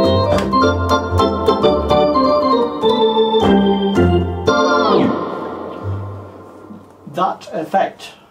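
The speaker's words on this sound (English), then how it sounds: "the pitch bend effect on Wersi, was called slalom" Wersi organ chords with the slalom pitch-bend effect: repeated stabbed chords, then a held chord whose pitch sweeps and bends downward around the middle, and a few final bursts, close and loud with no voices.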